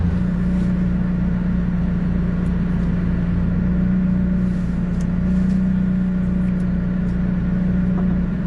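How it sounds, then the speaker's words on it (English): A stock Ferrari 458 at a drag race, its engine giving a loud, sustained steady roar that fills the whole stretch without letting up. "But the 458 does sound good"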